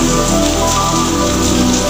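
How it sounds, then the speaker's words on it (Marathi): Heavy rain pours down steadily, a dense loud hiss of drops hitting surfaces, close and constant with no voices. "बघा किती पाऊस चालू आहे"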